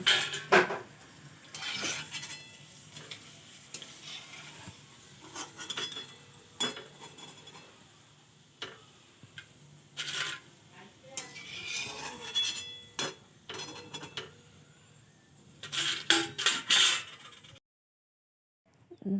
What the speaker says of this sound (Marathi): हे चिप्स आपण एका प्लेटमध्ये काढून घेऊ.